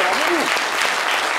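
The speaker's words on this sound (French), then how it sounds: "Applaudissez-vous bien fort." Dense applause from an audience at a live concert event with the Ensemble Bel Canto Côte d'Ivoire, a steady wash of many hands throughout, with a voice briefly audible over it.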